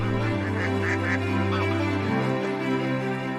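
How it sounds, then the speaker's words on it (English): A flock of bar-headed geese honks in the grassland in late autumn, repeated nasal calls overlapping close by over a steady low background. "A flock of bar-headed geese."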